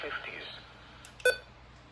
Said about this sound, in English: as you can clearly hear by the button beeps